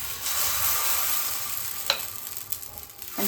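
Mixed-dal dosa batter sizzles on a hot griddle with a steady, moderately loud hiss, broken by a few sharp clicks and scrapes near the end.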